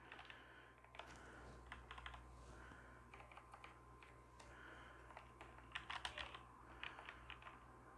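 Typing on a Corsair K70 Mk2 Low Profile keyboard: quiet, muted key clicks in quick irregular bursts, close up over a faint background hum.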